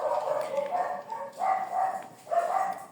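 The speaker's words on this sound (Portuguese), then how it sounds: "Tem alguns latidos aí, pessoal, que eu tenho umas cachorrinhas aqui" Small female dogs bark in a house, several muffled bursts of yapping in a rough rhythm, moderately close and somewhat dulled as if from another room.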